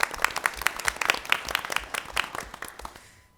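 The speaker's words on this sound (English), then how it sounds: "a round of applause for Mr." A board of education meeting audience gives a round of applause, a dense patter of many hands clapping that fades out near the end.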